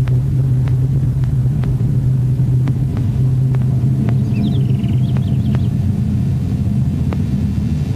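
Ariane 5 rocket lift-off in the game Spaceflight Simulator: a loud, continuous low rumble holding steady throughout, with faint ticks over it.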